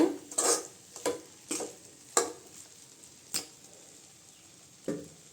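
Beetroot and chana dal poriyal with coconut being stirred in a pan, heard as a handful of sharp, separate spatula scrapes and taps on the metal, close and moderately loud, with quiet pauses between strokes.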